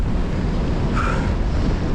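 Steady low rumbling wind buffeting the microphone, a constant roaring noise with no voices.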